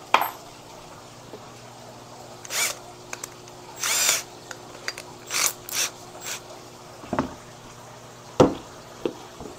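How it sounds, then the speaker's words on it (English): A power drill turning a hole saw bit bursts in short whirring, ratcheting spurts with pauses between, close and fairly loud over a steady low hum, no speech. "I'll actually have to grab a smaller hole saw bit."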